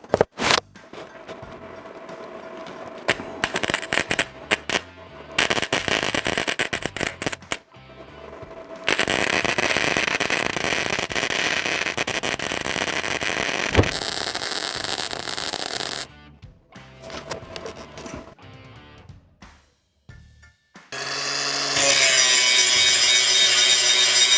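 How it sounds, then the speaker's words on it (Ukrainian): A Procraft SPI290 inverter semi-automatic welder laying a bead with flux-cored wire, giving loud, steady crackling and sputtering bursts that start and stop several times, with a sustained stretch in the middle and no talk. "варить почнемо флюсовою проволокою від нашої ж фірми ProCraft"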